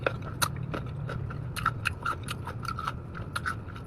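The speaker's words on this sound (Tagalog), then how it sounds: "Pakinggan mo yung kagat" Crisp, repeated bites into sour fruit seasoned with sugar, a close series of sharp crunches and wet chewing sounds spread through the moment, with no talk over them.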